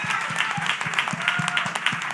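An audience at a community outreach session claps together in a lively, slightly uneven rhythm, close and fairly loud with no talking over it.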